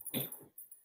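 A dog whimpers in a short soft whine close by, followed by a couple of faint yips, with nobody speaking.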